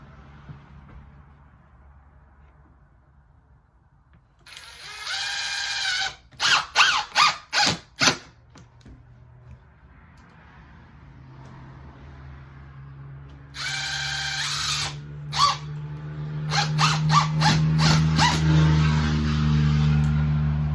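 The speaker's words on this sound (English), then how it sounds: "I'm gonna go ahead and put the center screws in" Bursts of a power drill driving screws into a replacement window, several short whirring pulses, with loud highway traffic rumbling and passing in the background.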